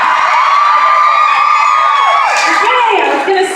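A large audience cheers and whoops loudly at a live show on tour in Columbus, Ohio, one sustained roar of shouting and screaming voices that dips slightly near the end.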